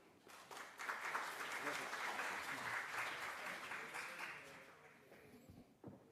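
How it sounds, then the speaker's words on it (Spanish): An audience in a university auditorium applauds a lecture speaker, with steady, dense clapping from a distance that swells, holds for several seconds and then tapers off. "Un fuerte aplauso, por favor."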